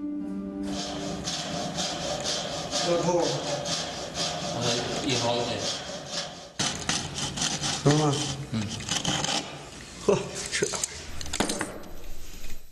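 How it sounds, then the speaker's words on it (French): A steel wire saw rasps back and forth through wood in continuous scratchy strokes, close up, with a voice speaking over it. "Elle peut scier le bois dans toutes les directions."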